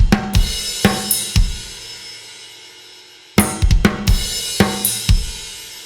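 Drum kit playing the ending of a song: loud close kick, snare and tom hits with crashes in two bursts split by a silent gap, no talk.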